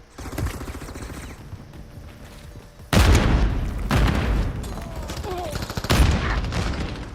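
Video game battle with bursts of gunfire and booming blasts, loud and close, the heaviest volleys near the middle and end, with shouted in-game voice callouts mixed throughout.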